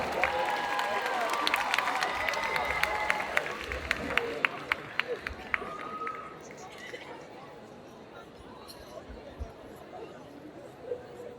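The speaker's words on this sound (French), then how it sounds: "on les applaudit bien fort" Audience applause with cheering rises at a cosplay contest for the contestants, loud and dense for about six seconds, then fades into softer crowd murmur and scattered claps.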